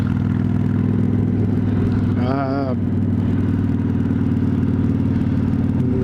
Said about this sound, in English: Cobra exhaust sounds amazing on this bike.